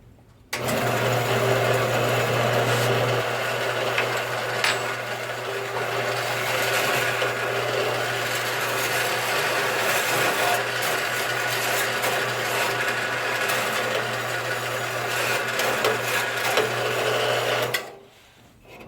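A Harbor Freight metal-cutting band saw runs with a steady loud mechanical whir and hum, starting up abruptly and cutting off near the end.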